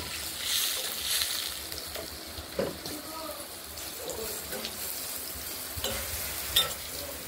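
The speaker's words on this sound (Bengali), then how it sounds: "আলুগুলো ভাজা করছি।" Potatoes fry in oil with turmeric, a low steady sizzle broken by occasional stirring clatter, with faint speech partly heard underneath.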